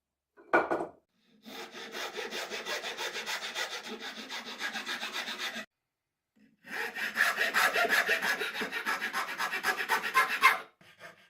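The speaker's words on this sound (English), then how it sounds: "figured I'd get better results just doing it all by hand with a coping saw and a few files" Steady hand sawing with a coping saw and rasping files on a blade blank, two long continuous stretches of rhythmic rough strokes, close and loud, separated by a short pause.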